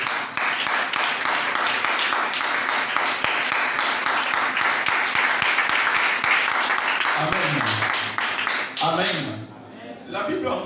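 Church congregation breaking into dense, loud applause and clapping that carries on for several seconds, then thins out as voices rise and a speaker talks over the fading claps.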